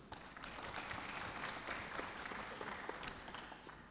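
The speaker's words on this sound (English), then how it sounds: "Let's welcome our panelists with a round of applause," Faint, steady audience applause in a conference hall at the Internet Governance Forum 2022, greeting a high-level panel; a soft continuous patter of many hands with scattered sharper claps.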